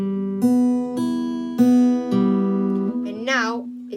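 Plucked guitar notes of a song intro ring out one by one at an even pace, close and sustained, ending with a short bend-like wobble as the last note fades.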